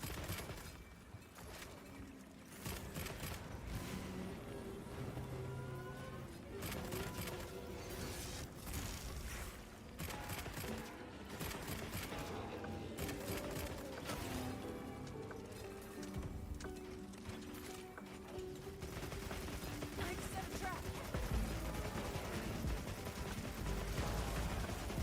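Weapon fire with recoil in the video game Monster Hunter Wilds comes as a dense run of sharp, rapid shots and impacts over layered game music and effects, steady and fairly loud throughout.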